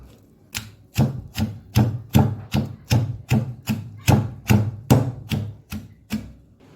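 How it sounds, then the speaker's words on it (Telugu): Onions pounded coarsely in a mortar with a pestle, a steady series of about fourteen dull, heavy thuds in an even rhythm, close and fairly loud with no talking. "ఇలా మరీ ఎక్కువ మెత్తగా పేస్ట్లా కాకుండా ఇలా కొంచెం కచ్చాపచ్చాగా దంచుకోవాలి"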